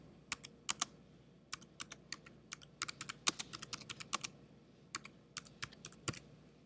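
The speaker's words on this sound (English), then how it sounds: "Now type the title in the Search For field." Typing on a computer keyboard, clusters of crisp, close key clicks in irregular bursts with short pauses, fairly quiet and with no voice over them.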